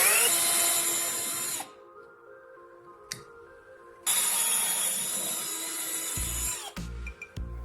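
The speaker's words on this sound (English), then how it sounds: "Place the metal jar lid against the board and drill a hole through both." A power drill bores through a metal jar lid and wooden board, whining loudly for a stretch, pausing, then running again before winding down with a few low knocks near the end.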